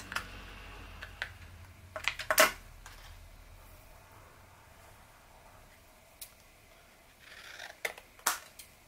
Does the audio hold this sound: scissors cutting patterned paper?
yes